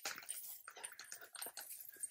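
Dogs romp in straw, giving faint, close rustling and scuffling with soft chewing and biting noises in quick, irregular bursts.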